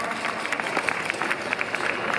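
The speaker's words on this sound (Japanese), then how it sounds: "大きな拍手を" Steady crowd applause for a young girl winning an individual prize on stage at the 2019 Izumi yosakoi dance festival in Osaka's Senshu area, dense continuous clapping close by.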